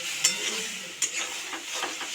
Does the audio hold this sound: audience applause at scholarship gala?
no